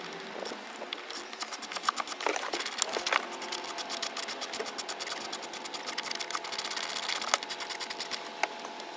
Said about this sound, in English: So I'm just going to take this socket, we're going to take out these factory bolts